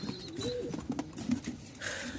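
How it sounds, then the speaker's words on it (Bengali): Three pairs of pigeons waiting for delivery give soft, low cooing nearby, a few brief murmuring calls in a quiet setting. "এই হচ্ছে ৩ জোড়া কবুতর"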